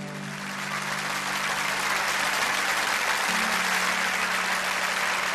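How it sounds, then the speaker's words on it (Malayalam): An audience claps inside St Roch's Church in Poothura, a sustained, even round of applause over a steady low hum. "നല്ലൊരു കൈയടി കൊടുത്ത അഞ്ജലിക്ക്."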